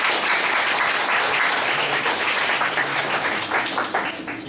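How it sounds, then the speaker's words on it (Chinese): An audience at a talk gives warm applause, a dense, steady wash of many hands clapping that holds strong before thinning slightly at the end. "我们热烈掌声一下"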